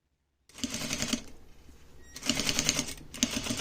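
A sewing machine back-stitches a fox ear into hoodie fabric made from pajamas, two short bursts of rapid close mechanical stitching separated by a brief pause.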